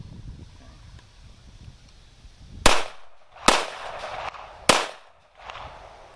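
Three sharp handgun shots from a CZ 82 pistol fired outdoors, loud and close with echoing tails, spaced about a second apart, followed by a softer fourth report, with no talking.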